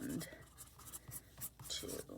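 Pen scratching across paper in short, soft strokes, close and quiet, with faint breathy sounds around the writing.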